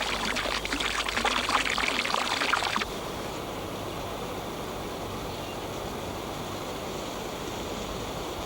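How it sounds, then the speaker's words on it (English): Water poured from a kettle onto pond ice, a close splashing, hissing pour lasting about three seconds before it stops, leaving a low steady background. "So with a kettle of water he melts a circle of ice to enable them to breathe."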